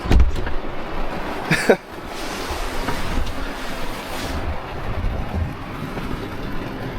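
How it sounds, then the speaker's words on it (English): Heavy rain drumming on a camper van parked on a remote dirt road, a dense, continuous hiss with a sharp knock early on, loud and close with no talk. "Some pretty hard rain."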